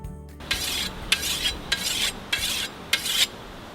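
A blade being sharpened in five even rasping strokes with short pauses between them, close and clear with no talking.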